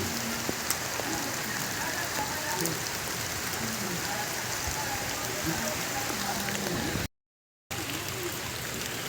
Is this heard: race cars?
no